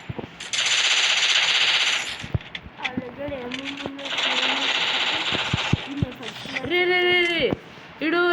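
Rapid automatic gunfire from a weapon in a shooting video game, sounding in loud sustained bursts separated by brief pauses, with game effects and tonal interface sounds between the bursts.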